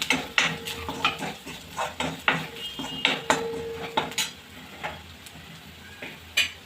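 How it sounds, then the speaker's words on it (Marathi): A spoon clinks and scrapes against a bowl while spices, salt, turmeric and kasuri methi are stirred together for bread pakora, in a steady rhythm of repeated taps at close range, with no talking. "हे सर्व मिक्स करून घेऊया।"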